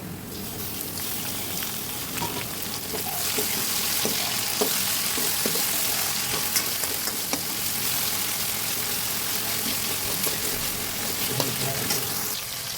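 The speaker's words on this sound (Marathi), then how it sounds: "कांदा हा आपला थोडासा ब्राऊन होईपर्यंत तळून घ्यायचा" Onion and tomato frying in a pan for masoor dal, a steady close sizzle throughout with scattered light clicks of a stirring spoon, no voices over it.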